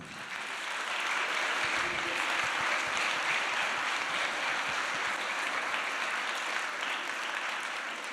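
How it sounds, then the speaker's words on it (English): An audience claps steadily for a speaker being introduced at a UNESCO campus event on women and climate change, a dense, even applause that holds for several seconds with no talk over it. "Je vous demande d'applaudir la cofondatrice de Great Bubble Barrier"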